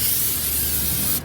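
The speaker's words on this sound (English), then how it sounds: "We'll put a little bit of this grilling spray" Grilling spray hisses from a can onto grill grates outdoors before corn is cooked. It is one continuous close, loud spray burst that cuts off abruptly at the end.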